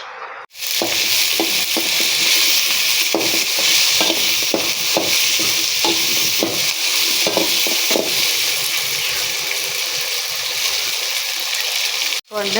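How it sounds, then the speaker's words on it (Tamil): Spices sizzle loudly in hot oil while a spoon scrapes and stirs them in a pan, making a continuous close frying hiss broken by repeated stirring clatter, with no talking. "வாங்க எல்லாம் இது நல்லா எண்ணெயில் வறுத்து எடுத்துக்கலாம் ஃப்ரெண்ட்ஸ்."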